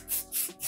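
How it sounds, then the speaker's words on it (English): Three short hisses of Perfect Touch Ultimate Hold hairspray sprayed onto a styled pixie cut, close and soft, each a brief airy burst with small gaps between. "Just going to spray this on top to keep my hairstyle"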